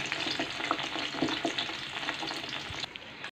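Hot dogs frying in very hot oil give a steady, close sizzle with crackling pops throughout, no voices, ending abruptly.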